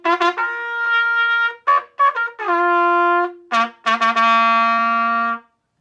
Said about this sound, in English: that would be the trumpet